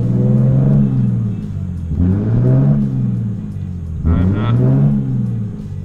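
Turbocharged Lexus IS300 engine revving repeatedly to about 3000 RPM, three rising-and-falling rev swells close by with a steady idle rumble between them and a brief whine on the last rise.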